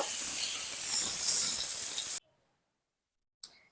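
Cut tomato pieces sizzling hard in hot oil in a frying pan for a small-fish curry, a loud steady hiss for about two seconds that cuts off abruptly, followed by near silence and a brief faint sound.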